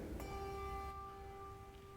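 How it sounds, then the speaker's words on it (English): A small bell is struck once and rings on with a clear, sustained metallic tone that slowly fades, heard alone without any talk. "Now, this little bigger bell"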